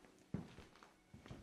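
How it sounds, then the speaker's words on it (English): Footsteps approach across a quiet room, a few soft, spaced steps heard close and alone with no talk. "you heard a pair of footsteps approach you"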